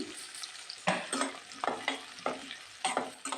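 Sliced onions with cardamom fry in a pan for pepper chicken, a soft sizzle broken by several sharp stirring scrapes in an uneven rhythm, close and clear with no talk.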